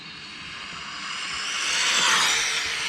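Carbon fiber Rlaarlo AK-917 RC car on a 4S speed run at full throttle, a steady high-pitched electric motor whine and hiss that swells louder toward the middle, heard from a distance with no talk.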